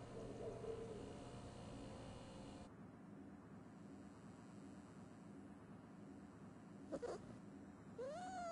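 A cat meows in the video game South Park: The Fractured But Whole over a low ambient hum, first a short meow, then a pause, then a couple of brief rising meows near the end.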